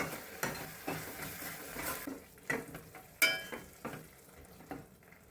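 Rice being stirred into a fenugreek-and-cumin masala in a pan for masala chitranna, with scraping and clinking of a spoon against the pan and a faint sizzle, coming in irregular close strokes.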